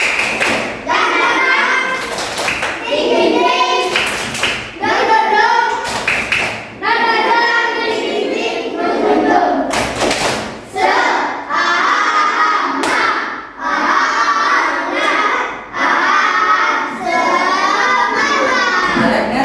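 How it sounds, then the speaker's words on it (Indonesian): Primary-school children in a classroom perform a rhythmic spirit clap, with repeated patterned hand claps and thumps mixed with loud group chanting over about twenty seconds. "Tepuk semangat."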